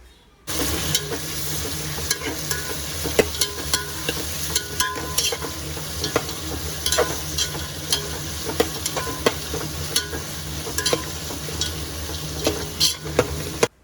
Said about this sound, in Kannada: ಇದನ್ನ ಹಾಕಿ ಮತ್ತೆ ಚೆನ್ನಾಗಿ ಫ್ರೈ ಮಾಡೋಣ